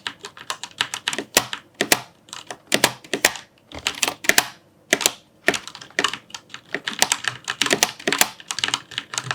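Someone types fast and steadily on a Roccat Pyro mechanical gaming keyboard, and the loud, close keystrokes clack in irregular bursts with short pauses between them.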